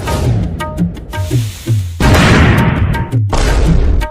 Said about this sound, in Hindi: चलो अब ये पटाखा भी फोड़ते हैं।